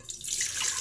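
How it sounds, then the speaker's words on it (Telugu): Water pours into an idli cooker in a short, soft splash that runs for under a second, alone and fairly quiet. "మనము దీంట్లో నీళ్ళు పోసుకోవాలి"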